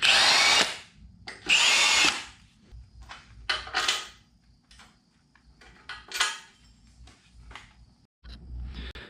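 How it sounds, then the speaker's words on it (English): A power drill bores holes through metal while a Toro Wheel Horse C-145 lawn tractor is refitted with a Predator 420cc engine: several loud, close whining bursts separated by pauses with light clanks and handling noises. "Clamp this, drill the holes, bolt it, drill the other 2 holes"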